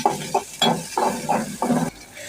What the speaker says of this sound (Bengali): পাতিলে তেল দিয়ে পেঁয়াজ নাড়াচাড়া করে